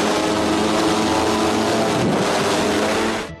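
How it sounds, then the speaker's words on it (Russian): The Scorpion-3 flying bike, built by Russian scientists and driven by four propellers, flies at its Moscow presentation, giving a loud, steady roaring drone that holds throughout and drops away abruptly at the very end. "Российские ученые изобрели байк, который приводит в движение 4 винта."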